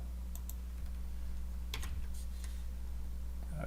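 Light keystrokes tap on a computer keyboard while a file name is typed to save an air purifier program, a few quick faint clicks over a steady low electrical hum.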